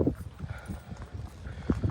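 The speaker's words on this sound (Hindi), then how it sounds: "एक घोड़ा आगे रहेगा, दूसरा पीछे और तीसरा और भी पीछे" Horses walking one behind another in a line at a stable, their hooves clip-clopping in a quiet, uneven rhythm at moderate distance, with faint voices murmuring in the background.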